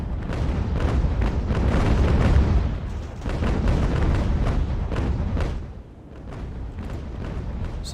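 Sailing warship cannon broadsides in Ultimate Admiral: Age of Sail, a rolling barrage of many overlapping booms and cracks, loud and sustained, briefly thinning before another volley rumbles on.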